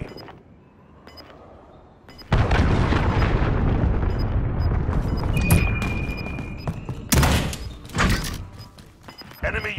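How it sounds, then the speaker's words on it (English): Cruise missile explosion in a video game, a sudden loud blast followed by a sustained rumbling roar and further sharp booms, with voices talking over it. "Allied cruise missile away."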